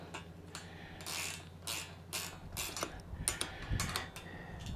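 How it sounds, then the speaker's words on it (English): A ratcheting wrench snugs down a nut on a tow protector being fitted to a car towed behind an RV, its clicking bursts coming in short repeated runs, close and moderately loud. "This is a ratcheting wrench"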